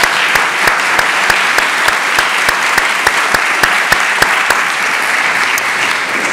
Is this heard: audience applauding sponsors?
yes